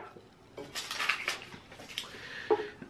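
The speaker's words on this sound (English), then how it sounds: "really cute heart-shaped stub pan, like cake pan. It's in like this red color" A red heart-shaped metal cake pan being handled, giving a few light clanks and scrapes of metal at close range, separated by quiet gaps.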